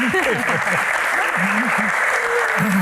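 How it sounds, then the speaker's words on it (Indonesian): Audience clapping at a Q&A stage event, a steady wash of applause throughout, with a voice talking and calling out over it. "Oke, tepuk tangan."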